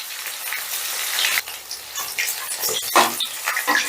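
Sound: chicken pieces frying in oil

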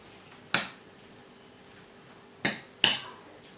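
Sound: stirring börek filling with black pepper

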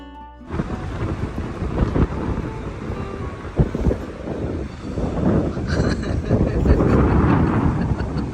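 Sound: strong wind on beach, Cayo Santa Maria

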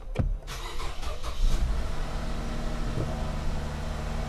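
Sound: Toyota Crown car engine starting

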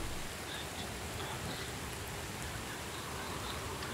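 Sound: rain in a video game

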